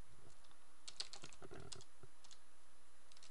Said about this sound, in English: I just need to type it